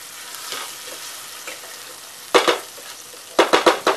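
Ghol fish fillet frying in a nonstick pan for an Aagri-style fry, a soft steady sizzle punctuated by a few sharp bursts of spatter and scraping near the end.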